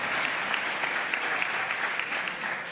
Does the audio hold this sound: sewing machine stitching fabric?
no